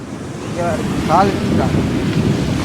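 Ocean waves wash onto a beach in steady broadband surf noise, with wind buffeting the microphone and brief voices speaking over the rolling water.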